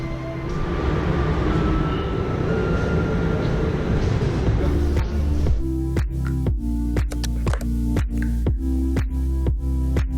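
A Berlin subway train rumbles loudly, then its wheels clatter over rail joints in a quick regular rhythm as it picks up speed.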